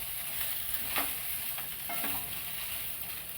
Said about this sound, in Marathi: बटाटा चांगला परतवला का